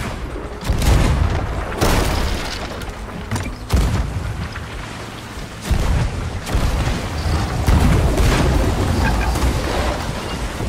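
Ship cannons fire in a sailing video game, a series of loud, close booming blasts about every two seconds over a constant roar of sea and battle noise.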